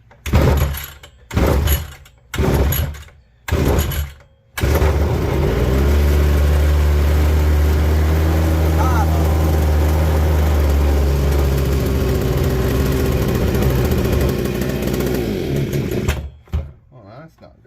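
Neotec BC520 brush cutter with choke on: four sharp pull-start bursts in quick succession, then the small two-stroke engine catches and runs loud and steady at a buzzing idle for about twelve seconds before cutting out.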